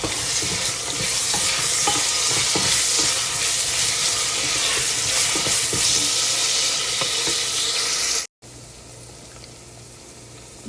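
Cut brinjal pieces fry in hot oil for baingan bharta, a loud continuous sizzle with regular spoon scrapes and stirring knocks, cutting off abruptly into quieter, duller frying near the end.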